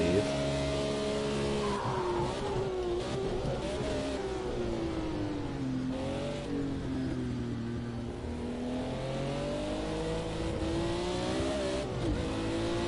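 Race car engine in Project Cars 2, loud and close throughout, rising and falling as it revs through gears with shifting pitch, brief tire skids as a rear end set up with stiffer springs slides around.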